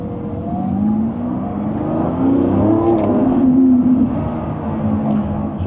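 The engine of a 2024 Lamborghini Revuelto hybrid in Strada mode revs from inside the cabin, a low, rising and falling hum that stays fairly steady throughout.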